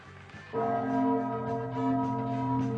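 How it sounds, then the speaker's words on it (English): A chime bell rings out on a comedy horror TV show, its sustained tone entering abruptly and holding steady, loud and clear with no talk over it. "Okay, chime time."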